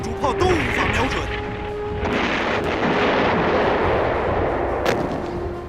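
A warship's main guns fire in a naval battle between the Beiyang fleet and Japanese ships, giving heavy booming blasts followed by a long rumbling roar amid dense, continuous battle noise.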